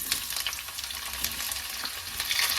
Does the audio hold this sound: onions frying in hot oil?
yes